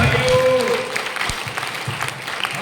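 A Sunday church service congregation claps steadily, a dense wash of applause with a voice speaking over it near the start.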